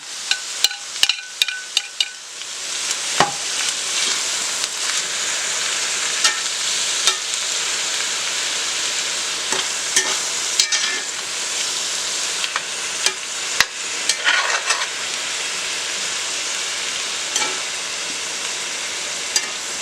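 Chicken pesto, asparagus and cherry tomatoes are stirred in a hot skillet, sizzling steadily while a utensil clacks and scrapes against the pan in irregular sharp knocks, close and loud, with no talking.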